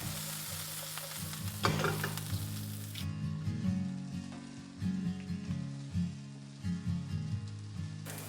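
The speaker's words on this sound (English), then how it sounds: "Broccolini and green onions. Saute for 1 to 2 minutes." Broccolini and green onions sizzle in a hot pan, with repeated bursts of stirring and scraping over a steady fry, close and clear with no talking.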